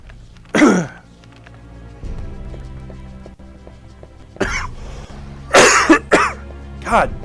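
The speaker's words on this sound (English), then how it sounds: "God, yeah, where does this cough come from?" A person coughs hard, with a loud burst near the start and a cluster of coughs and throat-clearing toward the end, over quiet game music during a Castlevania: Legacy of Darkness play session.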